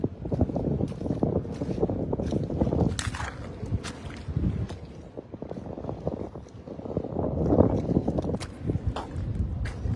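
Strong night wind by a river during crab catching, gusting roughly against the microphone in uneven rumbling bursts that swell and ease throughout, with no talking.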